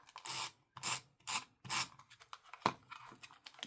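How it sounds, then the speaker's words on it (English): Several short rasping cuts follow one another at a steady pace, close and quiet, as scissors snip through paper, with no talking. "I'll do that with a scissors"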